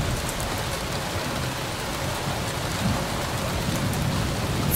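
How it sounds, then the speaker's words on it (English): Steady rain falling on surfaces, a dense, even hiss of drops that holds at moderate loudness throughout with no voices. "See? The rain is almost past."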